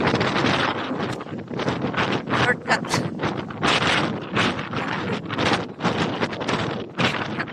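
Strong gusts buffet the microphone during a sandstorm, loud rough bursts of wind noise rising and falling in rapid succession, with a voice speaking briefly underneath.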